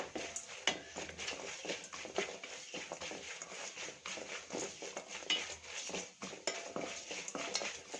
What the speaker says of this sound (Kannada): ಅರ್ಧ ಸ್ಪೂನಷ್ಟು ಅರಿಶಿನ ಪುಡಿನ ಸೇರಿಸ್ಕೊಂಡು ಚೆನ್ನಾಗಿ ಮತ್ತೆ ಇಲ್ಲಿ ಫ್ರೈ ಮಾಡ್ಕೊಳ್ಳೋಣ